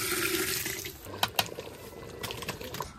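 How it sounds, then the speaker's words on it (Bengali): Water poured from a container into a pot of sautéed meat, rice and lentils for khichuri, a close splashing gush for about a second followed by lighter dribbles and small clinks. "পানি দিয়ে দিলাম।"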